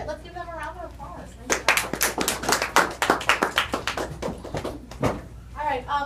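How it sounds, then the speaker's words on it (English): A small audience claps after a 5th and 6th grade Revolutionary War presentation. Someone speaks first, then a burst of sharp, close, uneven claps from a few people follows, and a voice returns at the end. "let's give them a round of applause."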